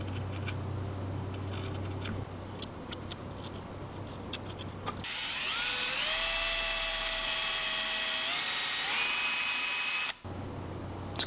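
A Dremel rotary tool grinds the edges of a handmade lipless crankbait lure, a high whining spin that shifts pitch as it loads, following quieter handling noise, close and steady.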